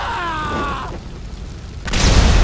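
An explosion in Grand Theft Auto 5 bursts in as a loud low boom after a quieter stretch, rumbling on to the end; a groaning voice-like tone fades out beforehand.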